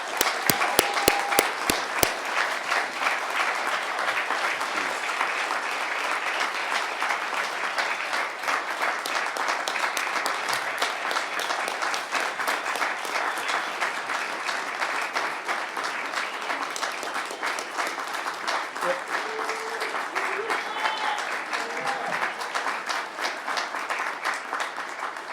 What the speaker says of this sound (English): let's give the lieutenant a big round of applause